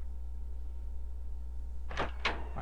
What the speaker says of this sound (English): Why are you opening the door for me?